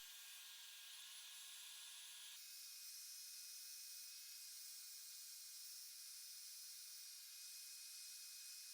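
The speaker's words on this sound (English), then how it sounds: "I'll spray this through the gun 2 or 3 times with the fluid control nozzle all the way open" Water hisses steadily through a Fuji Semi-Pro 2 spray gun, a loud, continuous high airy spray with a brief change in tone as the pattern shifts partway through.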